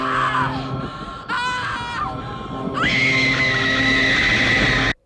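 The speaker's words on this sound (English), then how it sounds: "we hear the scream" A scene from the horror film Pet Sematary carries a loud, sustained scream that rises and shifts in pitch across several seconds. The scream sits over a droning background and cuts off abruptly at the end.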